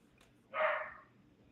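A single dog bark, a short bright burst from a dog somewhere near, rising quickly and fading over about half a second against a quiet background.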